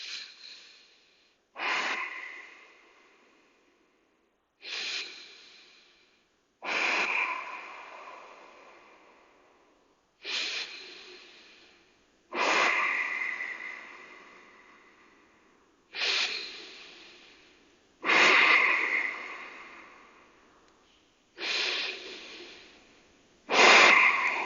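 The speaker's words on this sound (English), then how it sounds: "Breathe for 5." Slow, deliberate breaths during a yoga pose at a Hatha class, five full inhale-exhale cycles heard up close, each a soft rushing breath followed by a pause, with no talking.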